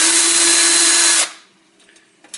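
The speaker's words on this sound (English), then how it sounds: "there is my electric drill, and I take these bolts out" An electric drill removing screws from a car ECU whirs loudly and steadily for about a second, then cuts off, leaving a quiet room with faint clicks.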